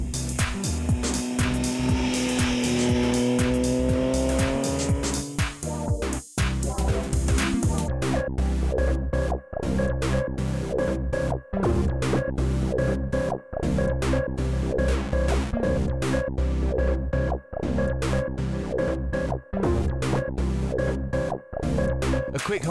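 A Triumph Speed Triple on carbon fibre wheels laps a race track, its engine roaring loudly and continuously. Regular brief dips mark the gear changes as the revs climb again and again.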